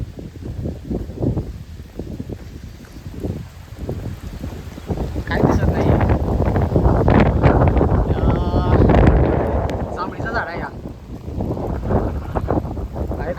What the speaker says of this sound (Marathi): हवा जास्त आहे, वारा पाणी सगळं चालू आहे.